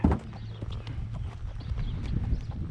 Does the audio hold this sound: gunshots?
no